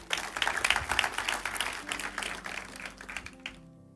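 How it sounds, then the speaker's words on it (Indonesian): A church congregation claps together, a dense, steady burst of applause filling the room for about three and a half seconds before cutting off sharply. "Beri tepuk tangan buat Tuhan."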